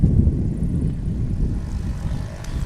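A STOL airplane's propeller engine drones loud and low throughout, a steady rumbling roar close by at the Pony Express STOL Competition in St. Joseph, Missouri.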